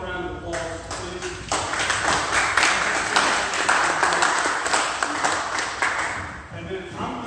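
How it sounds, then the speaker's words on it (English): Audience applause at a county meeting in Edgefield, South Carolina, a sustained burst of clapping lasting several seconds in a room, tapering off at the end. "So give them a round of applause, please."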